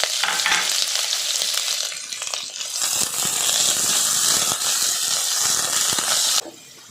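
Ridge gourd peels roasting in hot oil in a pan, a dense continuous sizzle with crackling pops and light stirring scrapes, loud and close, cutting off near the end.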